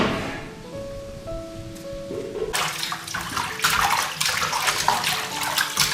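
Tap water gushes steadily while chicken drumettes are washed in a kitchen sink, a low murmur that turns into a loud, close splashing stream partway through.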